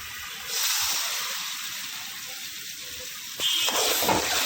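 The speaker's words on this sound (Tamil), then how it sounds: "இப்போ இந்த டைமில் வந்து நம்ம அரைச்சி வச்சிருக்க தக்காளி ஊற்றிக்கலாம்" Ground tomato paste poured onto sautéed onions in a hot pan sets off a loud, steady hiss that swells again partway through, close and continuous with no speech.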